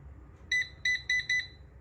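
An air fryer's control panel gives four short, bright electronic beeps in quick succession as the temperature is raised, close and clear over quiet kitchen background.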